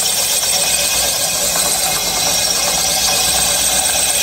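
A boring machine cuts the cylinder liner of a Yamaha Aerox piston block out to 63 mm, producing a loud, steady mechanical hum with bright grinding noise and no pauses.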